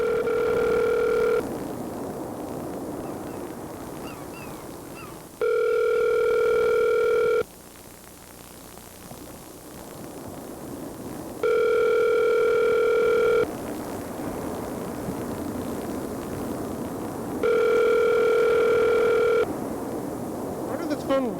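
A telephone ringback tone heard while calling someone back, repeating in evenly spaced long bursts with pauses between, over a steady background hiss and murmur.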